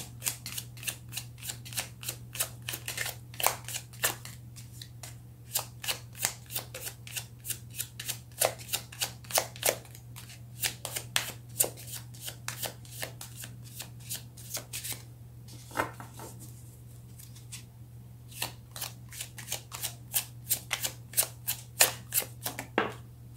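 Tarot cards are shuffled in quick, rhythmic bursts of crisp riffling clicks, quiet and close, over a steady low electrical hum, with no voices.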